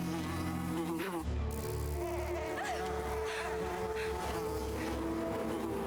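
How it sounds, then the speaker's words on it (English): A steady bee buzz drones throughout over a busy background of music-like tones, loud and continuous, with no talking. "Are the bees protecting Wednesday?"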